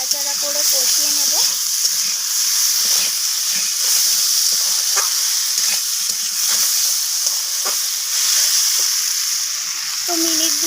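Spices, potato and papaya sauté in a pan, giving a loud, continuous close-up hiss and sizzle with occasional faint stirring knocks throughout.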